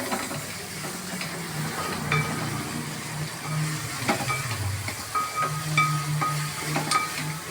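Onions sautéing with salt in a pan for a Kerala beef-style kakka (clam) roast, giving a steady low sizzle and hiss with occasional stirring scrapes and clinks throughout.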